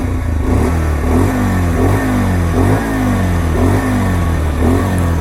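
A 2026 Bajaj Pulsar 125 Classic motorcycle runs close by, loud and steady. Its exhaust gives a low, throbbing note that rises and falls in repeated revs of the throttle, and no one speaks.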